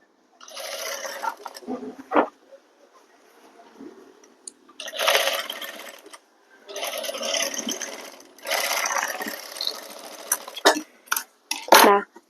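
Domestic sewing machine stitching the lining seam of a shirt, heard in several loud whirring bursts of a few seconds each with short pauses between, close and alone.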